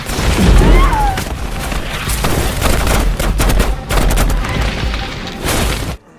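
Rapid film gunfire mixed with heavy bazooka-like blasts, fired in quick succession with dense, loud bursts throughout, ending abruptly.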